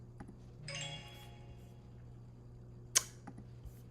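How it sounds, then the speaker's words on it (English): A Telegram message notification chime sounds from a phone as a short ding-dong tone near the start, with a faint steady hum behind it and a later sharp click. "That's a message usually from my guys in Telegram."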